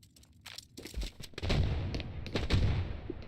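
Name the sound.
grenade explosion kill in a video game shooter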